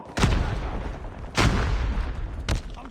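Explosions in a first-person shooter game: three heavy booming blasts at roughly one-second intervals, each a loud, sudden broadband burst that decays into rumble.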